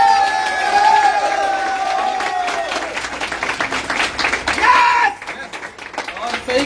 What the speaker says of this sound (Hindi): एक बार तालियां होनी चाहिए हमारी